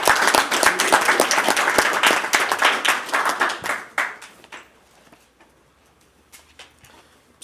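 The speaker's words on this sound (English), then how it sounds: "Let's give them a round of applause as well." Audience applause at a Palatka city redevelopment meeting, a loud round of many hands clapping that tapers off around the middle, leaving a few scattered individual claps and near quiet in a room.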